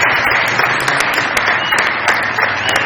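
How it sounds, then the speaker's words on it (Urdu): A studio audience at a comedy show claps together in a loud, dense, continuous burst of applause heard up close for a few seconds. "بہت ساری تالیاں بجائیے میرے بھائی کے لیے"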